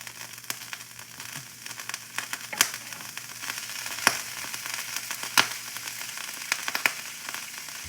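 Butter sizzling and crackling in a hot pan for a grilled cheese, with a steady close frying hiss broken by sharp pops and spits throughout.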